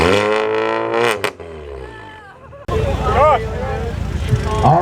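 Car two-stepping at a CCE car meet, engine held at a rising, banging limiter with rapid stuttering pops, then a crowd noise cut and loud revs under cheering and talk.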